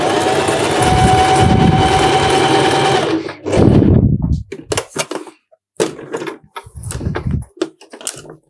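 A sewing machine stitches a zigzag in a fast steady whir close by for about three seconds, then carries on in short stop-start bursts with pauses between them.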